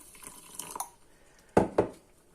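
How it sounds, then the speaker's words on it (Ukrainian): Water splashes over poppy seeds in a bowl in a couple of brief pours, with faint drips and clinks between them, close by. "заливаємо водою"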